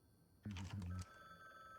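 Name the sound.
phone ringing in a video game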